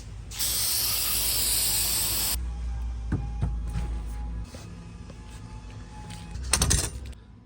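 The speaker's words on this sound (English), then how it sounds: "Spray them little holes out." A loud, steady aerosol spray hisses for about two seconds, cleaning small holes in a Honda Pioneer/Talon valve body, followed by faint clicks and handling noises, then a brief second spray burst.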